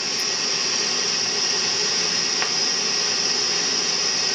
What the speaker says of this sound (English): You get this little secret noise generator.